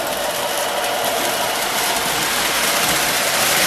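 A Lionel model train locomotive climbs a hill on throttle, giving off a steady, close electric motor whine with a rattling hum of wheels on track that holds level throughout.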